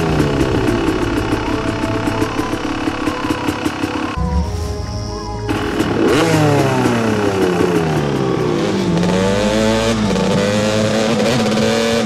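A car driven in the video game Haze, its engine note rising and falling in steady revving sweeps, loud and close, with a brief lull partway through before the motor surges again.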